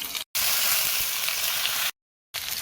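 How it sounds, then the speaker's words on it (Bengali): Fish fries in oil with a loud, dense, continuous sizzle that cuts off abruptly twice, with no talking. "এখন মাছ ভাজা হয়ে গেছে"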